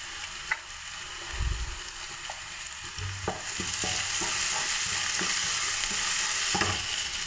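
Chicken curry with small onions sizzles steadily in a pan, a continuous close hiss of frying broken by scattered scrapes and taps as it is stirred, with no voices.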